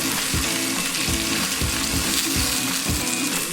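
A scotch egg fries in a Saladmaster pan while being turned, giving a continuous crackling sizzle with soft knocks and scrapes as it rolls.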